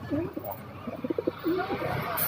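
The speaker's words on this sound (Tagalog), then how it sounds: "Yung mga kalapate natin guys." Pigeons cooing nearby in a series of soft, low warbling coos, fairly close, with faint background noise and no clear talk.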